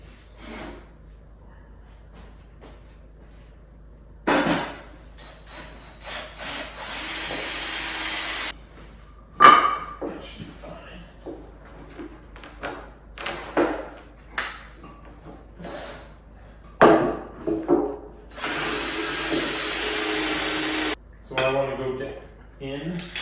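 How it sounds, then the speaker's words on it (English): A power drill whirs in two long bursts through wood for a barn door, separated by clattering, knocks and brief talk nearby. "So I'm going to drill it, see what happens."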